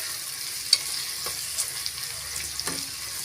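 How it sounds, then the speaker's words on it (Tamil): Slit green chillies sauté with onions in a pan, a soft continuous sizzle broken by light clicks and scrapes of stirring, close and fairly quiet. "கூடவே 5 பச்சை மிளகாய் லேசா கீறிட்டு சேர்த்துக்கோங்க நல்லா வதக்கி விட்டுக்கலாம்"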